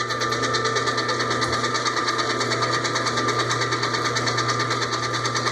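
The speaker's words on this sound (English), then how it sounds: "We want the machine to mix it in." A stand mixer runs continuously and loudly, blending melted butter into cake batter for a raspberry Capri cake, with a steady motor hum and a fast, even rhythmic pulse throughout.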